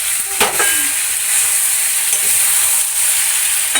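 Chicken frying in a pan on a home stove gives a loud, steady sizzle and hiss throughout, with a brief clatter of stirring near the start.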